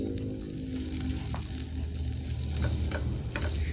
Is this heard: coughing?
no